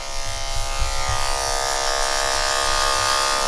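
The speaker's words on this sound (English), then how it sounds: "I'm just doing it with a comb and a clipper." An electric hair clipper hums steadily while cutting hair clipper-over-comb during a low fade haircut, a close, continuous buzzing drone with faint rustling underneath.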